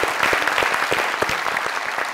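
Dense audience applause on a comedy talk show, a steady wash of many hands clapping at even loudness throughout.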